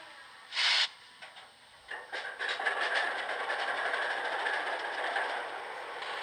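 Startup sequence of an N scale BLI Pennsylvania Railroad PA diesel model locomotive, a short burst followed by a steady mechanical hum and faint clicking that builds and holds at moderate level.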